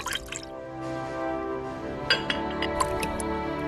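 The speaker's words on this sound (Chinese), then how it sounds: "往痰眼里倒进清水，" Clear water is poured into the rim of a clay pickle jar, giving a soft trickling pour with a few light clinks and drips nearby, quiet and alone.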